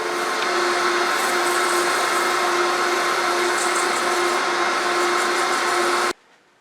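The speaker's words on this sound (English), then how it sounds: "Okay, sand it up." A wooden picture frame being sanded as it spins on a woodturning lathe gives a loud, steady whirring hum with abrasive hiss. The sound runs evenly for about six seconds, then cuts off abruptly.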